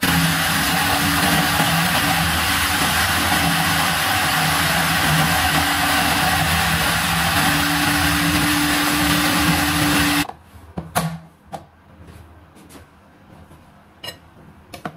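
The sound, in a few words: food processor grinding fish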